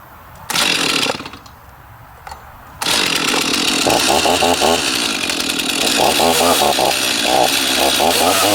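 A Stihl chainsaw revs in short bursts, then bites into a thick piece of hardwood with a loud, sustained snarl whose pitch sags and recovers as the cut bogs down, close to the listener.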